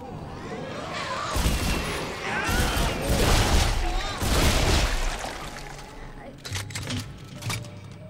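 Gunfire from the video game Dead Space 2 as enemies' heads are shot off, dense bursts of shots and impacts over a few seconds amid a busy game soundscape, with softer scattered mechanical sounds near the end.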